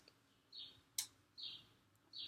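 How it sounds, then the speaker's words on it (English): Birds chirp as a few faint, high, repeated cheeps, evenly spaced, alongside a sharp click, with a low background hiss. "Do you hear that? Cheep, cheep, cheep. Those are birds."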